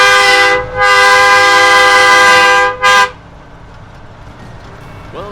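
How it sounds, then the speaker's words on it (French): A loud, sustained horn on a 1996 Peterbilt 377 truck blares, breaks briefly, blasts again, and gives one short final toot before fading into engine rumble. "Et là on va mettre un petit coup de klaxon"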